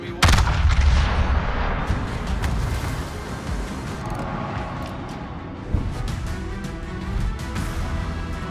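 Warship naval guns firing at an enemy ship in World of Warships, heavy booming blasts with a big salvo at the start and another near the end, over a constant low rumble of battle.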